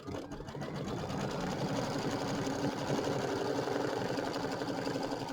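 An embroidery sewing machine stitches a placement line for a bench buddy square, a loud, steady rapid mechanical chatter running close and continuously.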